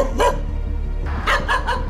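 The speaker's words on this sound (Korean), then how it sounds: "밤이 되니 주변을 더 심하게 경계하며 짖음을 멈추지 않는데요" A stray dog in a restaurant's back yard at night barks one sharp bark, then after a pause a quick run of three loud, close barks over a low steady background hum.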